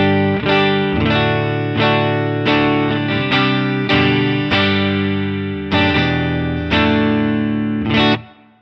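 Distorted electric guitar played through a ToneX One pedal with a little reverb, ringing out chords struck one after another in a steady rhythm, each left to sustain before the next, ending on a final decaying chord.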